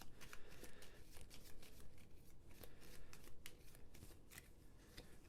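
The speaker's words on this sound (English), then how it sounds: "Now let's shuffle up this threat deck" A Marvel United board game threat card deck is shuffled by hand, giving a run of crisp, papery riffling and flicking bursts at close range with no talking.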